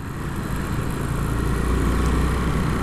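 A Yamaha SR400 motorcycle engine drones steadily while riding, a continuous loud rumble mixed with road and wind noise that rises slightly midway, with no one talking.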